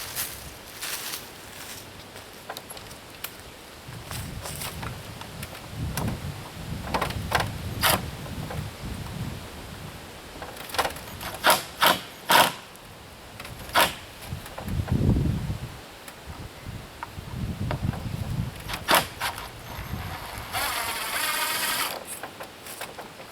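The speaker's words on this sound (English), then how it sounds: "So right now what I'm doing is going to take out all the screws" Screws are worked out of an antique wooden door, giving scattered clicks, creaks and ratcheting scrapes at an irregular pace, with soft rustling and handling noise between them and no talk.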